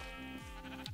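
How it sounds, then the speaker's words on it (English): A sheep in Minecraft bleating as the player kills it, one wavering, quavering bleat with a rising cry at the end, faint but clear. "Killing a sheep."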